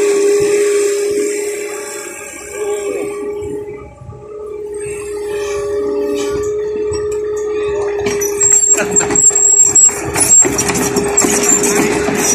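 An engine-driven water pump drones steadily with a continuous motor hum while pumping water at a pond embankment, loud and close, with sloshing and rattling noise building toward the end.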